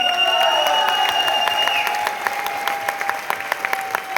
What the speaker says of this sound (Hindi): तो ये तालियां और ये सीटी उसी की वजह है